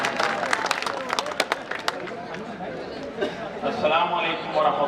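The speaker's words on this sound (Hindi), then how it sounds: "जोरदार तालियों के साथ इस्तकबाल" An audience at a mushaira poetry gathering applauds to welcome a speaker, with a dense, scattered patter of hands that thins toward the end while chatter and voices carry on underneath.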